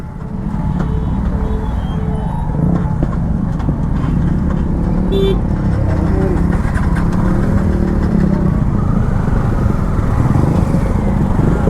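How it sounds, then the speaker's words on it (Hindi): A motorcycle engine starting and idling at a railway level crossing after the engine kill switch is switched off, a loud, steady, close engine rumble that persists throughout, with traffic noise and a horn around it. "फिर इंजन किल स्विच बंद किया, तब स्टार्ट किया तो स्टार्ट हो गई अभी"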